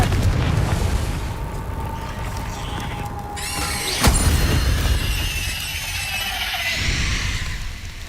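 A Confringo blasting spell detonates in a fantasy video game, a sharp loud bang near the middle rising over a continuous roaring, crackling bed of game effects with a bright ringing tail.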